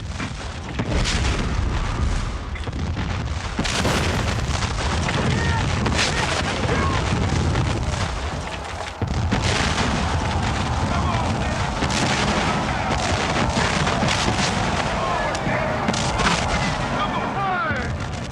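Massed volley of eleven cannon and about 1,700 muskets firing at once on a Gettysburg battlefield, a dense, sustained roar of booming blasts and crackling gunfire that stays loud and continuous throughout.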